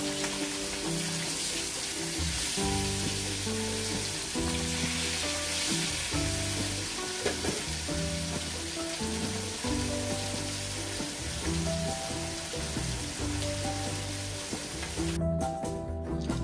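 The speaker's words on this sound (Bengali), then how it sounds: "মাছ ভেজে আমি অন্য একটা পাত্রে তুলে রেখেছি, আমার মাছ ভাজা কমপ্লিট হয়ে গেছে।" Pieces of rohu fish frying in hot oil in a home kitchen give a dense, continuous sizzle, with background music playing over it throughout.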